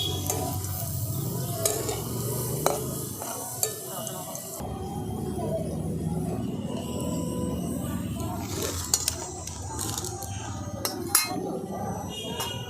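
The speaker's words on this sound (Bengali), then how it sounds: "বাকিগুলো আমি ভেজে নিচ্ছি একটা একটা করে" Eggs frying one at a time in oil make a continuous sizzle, with spoon stirring and scattered sharp clinks of utensils against the pan, some louder knocks toward the end.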